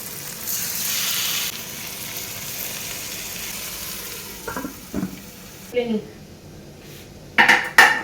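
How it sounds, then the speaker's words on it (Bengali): Chicken pieces frying in hot ghee in a pan, a steady close sizzle with scattered clinks and scrapes of a utensil against the pan, with a few louder knocks near the end. "চিকেনগুলো প্রথমে ফ্রাই করে একটু তুলে রাখবো"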